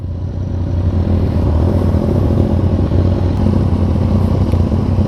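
A Yamaha MT-09 motorcycle with a quickshifter and traction control switched off drones loud and close at a steady engine pitch, a continuous rumbling roar with no pauses.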